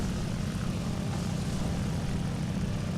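A steady, droning piston engine of an Fw-190 fighter plane in the video game War Thunder, flying level at low speed without an upgraded engine, a continuous dense hum with no talk over it.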